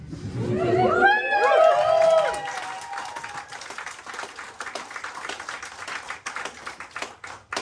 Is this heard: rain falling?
no